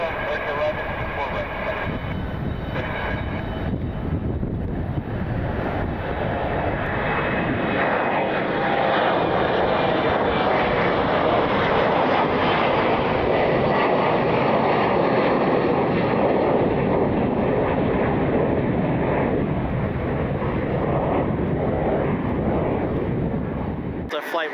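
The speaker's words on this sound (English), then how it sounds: "The flight 132 heading to Amsterdam. Airbus A350." Delta Airbus A350 jet engines roar loudly and continuously at Detroit Metro Airport, a broad sustained rush that swells and slowly fades with some wind noise, while someone talks beneath it.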